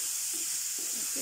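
Onions frying in a hot pan for gobi manchurian give off a steady, close hiss that runs unbroken, with a few faint soft knocks underneath.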